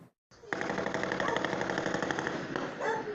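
Rapid automatic gunfire bursts near schools in Complexo do Alemão, Rio de Janeiro, during an attack on pacifying police, loud and continuous over several seconds with a short gap before it starts.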